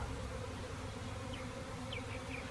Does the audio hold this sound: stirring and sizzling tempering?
no